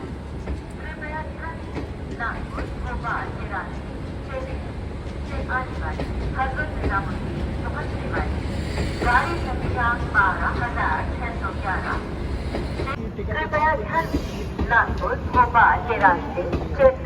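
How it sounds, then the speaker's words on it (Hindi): A Garib Rath Express train stands at platform 4 of Hazrat Nizamuddin station, India, after arriving from Chennai Central. A continuous low rumble fills the platform, with clanks and station bustle rising toward the end, and someone talks over it. "चेन्नई सेंट्रल से चलकर हजरत निजामुद्दीन पर पहुंच चुकी है ये गरीब रथ एक्सप्रेस।"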